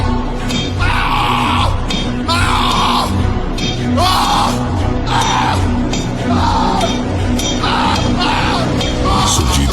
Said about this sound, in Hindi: फिर से चीखा।